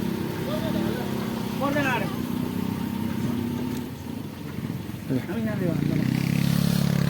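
A motorbike passes on a road near a hillside palace in Palpa, Nepal, its engine rising and falling over steady traffic rumble, with people talking over it.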